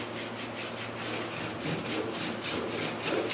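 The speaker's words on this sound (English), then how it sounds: "So now it's scrubbing time." Filler stain scrubbed into the wood of a 1940 Lyman 16-foot yacht tender across the grain, a close, rhythmic rasping back-and-forth rubbing repeated in quick strokes.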